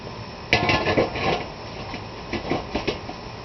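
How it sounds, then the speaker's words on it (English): A smoker grill lid is set back on after a heat deflector and grate go in for smoked Boston butts, giving a sharp metallic clank followed by scattered clattering knocks of metal parts, fairly close. "Put it down in there. Grate. And get the lid back on there quick."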